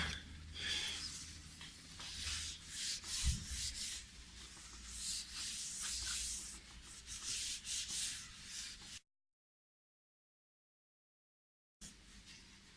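A Fender-style guitar body is sanded with oil, giving soft rhythmic rubbing and scraping strokes close by. A silent gap interrupts the strokes before they resume briefly.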